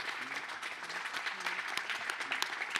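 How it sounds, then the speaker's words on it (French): Participants at a French conference session on resilience receive a steady round of clapping from the room, even and unbroken across the whole stretch, with faint murmurs of talk mixed in. "Je crois qu'on peut applaudir les différents participants."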